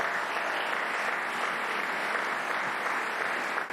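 An audience applauds steadily and at close range for almost four seconds, giving a dense, even wash of clapping that thins briefly at the very end.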